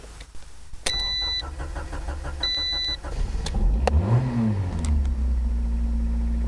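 A Honda Civic sits with its ignition switched on, dashboard chimes beeping in a repeating pattern, then the starter cranks briefly and the engine catches and settles into a steady close idle.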